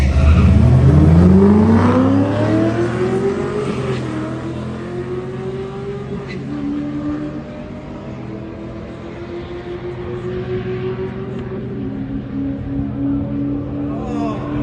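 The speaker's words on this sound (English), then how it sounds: "So then it's the red Z06's turn, and our friend takes it down the strip and has the fastest time." A red Chevrolet Corvette Z06 launches hard down a drag strip, its V8 roaring loudly up through the gears with rising revs and shifts, then fading as it pulls away, with no talking.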